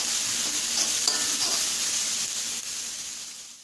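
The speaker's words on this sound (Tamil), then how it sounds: "இந்த வெங்காயம் வதங்கிடுச்சு." Onions sautéing with salt and curry leaves in a pan for a raw banana masala curry give a steady soft sizzle and hiss, with occasional faint stirring scrapes and no talking.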